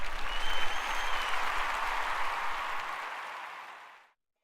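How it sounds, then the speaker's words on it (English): Applause sound effect from a crowd, a dense, close burst of clapping that holds steady, gradually thins, and cuts off abruptly into silence near the end, with no speech. "And here's where the applause will come in."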